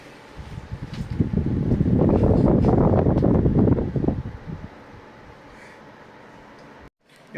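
Air rushes from a home air conditioner indoors, swelling into a loud, steady whoosh for a few seconds before settling back to a soft hum.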